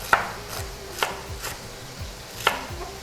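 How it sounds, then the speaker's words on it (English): A chef's knife chops vegetables into pieces about the size of diced onions for chicken tortilla soup, giving about five crisp, evenly spaced thuds on a cutting board, close and clear with no talking. "these are gonna be cut to about the same size as the onions"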